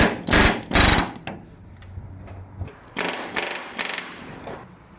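Rivets are hammered while buck riveting a jalousie window to stop leaks. Two sharp, close metallic blows land in quick succession, and after a pause a tighter cluster of ringing strikes follows.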